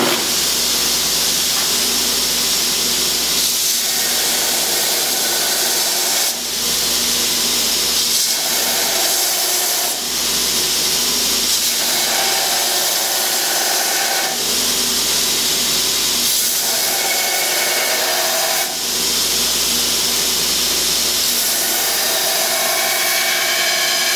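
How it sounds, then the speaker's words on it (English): A belt sander with a 60 grit belt grinds the bevels on a forged Bowie knife blade, a continuous loud hissing rasp that swells and eases in repeated passes over about twenty-four seconds. "we're going to start laying in the bevels with the 60 grit belt"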